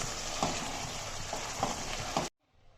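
Tinda simmering with green chillies in a pan, a steady soft sizzle with occasional stirring scrapes, close and fairly faint, cutting off abruptly near the end.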